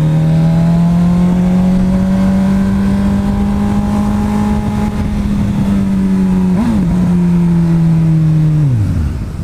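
A Honda CB1000 motorcycle engine revs on a test ride, holding a loud, steady droning pitch close by, wavering briefly near the end before dropping away as the throttle closes.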